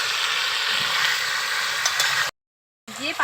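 Country chicken sizzles steadily in a hot pan while being stirred, with a dense frying hiss that cuts out briefly before resuming with a soft scrape.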